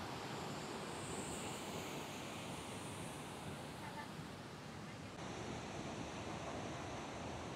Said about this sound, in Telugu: చూసిగా ఇట్లా ఉన్నది మరి వాటర్ ఫాల్ అయితే